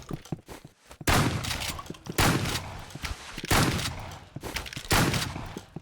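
Rapid gunfire in the Roblox game Rivals, with several dense bursts of automatic shots interrupted by short pauses and a few scattered single thuds.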